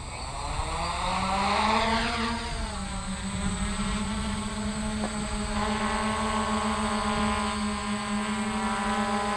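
A DJI F450 quadcopter drone fitted with retractable landing gear and a camera gimbal flies nearby, its propellers giving a loud, continuous buzzing whine that rises in pitch early on and then holds steady.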